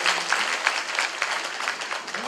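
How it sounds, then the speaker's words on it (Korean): Applause from a crowd at a monthly staff assembly, a dense burst of many hands clapping with individual claps audible, close and lively, fading slightly toward the end. "박수 부탁드립니다."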